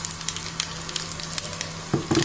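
Asafoetida and curry leaves sizzle in hot oil for a tempering, a close, crackling spitting fry with sharp pops, louder bursts near the end as more goes into the pan.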